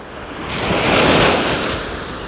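Surf from the Sea of Azov near Golubitskaya washes in as a broad, steady roar that swells and eases, with wind buffeting the microphone.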